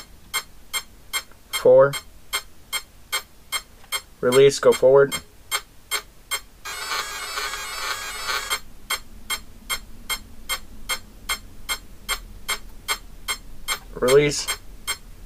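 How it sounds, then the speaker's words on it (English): Regular electronic beeps from an RC car electronic speed controller being calibrated to a Futaba 7PXR radio tick steadily throughout, with a burst of higher tones in the middle, while someone speaks briefly a few times over them. "Wait for my beeps."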